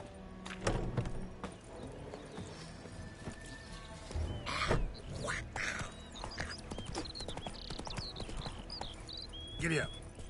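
Horse hooves clip-clop in The Witcher 3 video game, a steady trotting rhythm under game dialogue and a player's talk, with a few louder thumps of movement.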